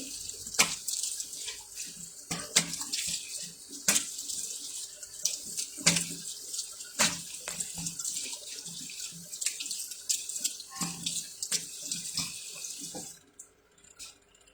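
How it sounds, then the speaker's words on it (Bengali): Tap water runs steadily into a sink while a face is washed, with irregular splashes and hand-cupping sounds over the continuous hiss, close by, stopping near the end. "ওকে, নাও ধুয়ে ফেলতেছি।"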